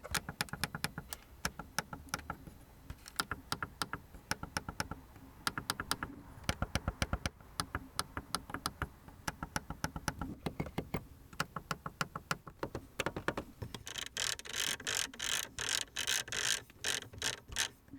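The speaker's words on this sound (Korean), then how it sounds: "스타트 버튼을 누르는 소리와 각종 스위치를 누르는 소리" Crisp plastic clicks of the start button and switches in a Mercedes-Benz E300 AMG Line, including climate, media, radio and navigation buttons, pressed one after another, close and dry, in a quiet cabin, growing busier toward the end.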